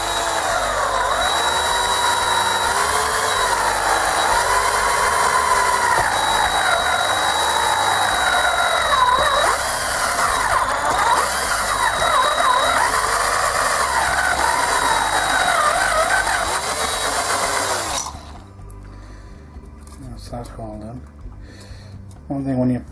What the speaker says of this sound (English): Drilling the holes in metal cases like this